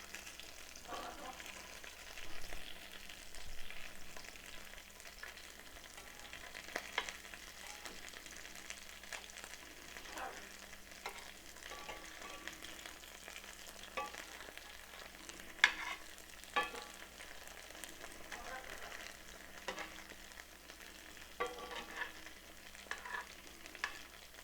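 Lentil rice patties frying in oil, with a steady close sizzle and scattered small pops and crackles from the rice, continuing without talk.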